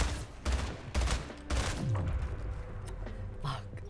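Gunfire in a Portal 3 video game session comes as several sharp, loud shots in quick succession over the first two seconds, then settles into a busy mix of game sounds.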